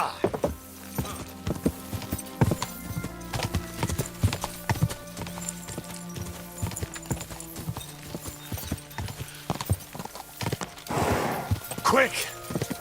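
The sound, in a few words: horse galloping and neighing in Kingdom Come Deliverance II video game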